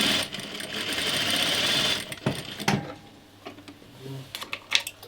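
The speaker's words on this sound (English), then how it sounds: "I stitched just underneath that stitch line where the binding is" A sewing machine runs steadily for about two seconds while stitching binding onto a patchwork dress placket, then stops, leaving a few faint clicks and handling sounds.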